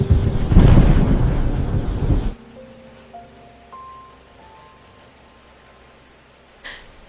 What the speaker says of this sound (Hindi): बर्फ जैसी ठंडी हवाओं के साथ तेज आंधी और तूफान चलने लगा